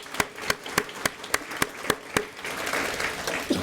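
A handful of people at a city council inaugural meeting clap in a slow, sparse, regular rhythm of distinct close claps before the sound gives way to a looser roomy patter.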